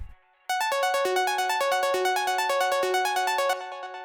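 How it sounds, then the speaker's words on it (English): A bright, buzzy sawtooth synth through a low-pass filter plays a quick repeating arpeggio of plucked notes for breakbeat rave music, filtered and steady, alone with no voices. "it's just a saw wave with a low pass filter"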